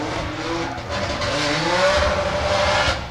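A drift car, apparently B58-powered, runs at Orange Show Speedway during a HOTPIT Autofest round. Its engine roars at full throttle under a long, sustained tire squeal, loud and close throughout, with no talking.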